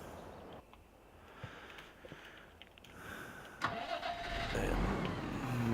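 A Massey Ferguson tractor starts up on a snowy farm, with quiet clicks and knocks leading into the engine cranking and catching, then a rising, loud close running roar.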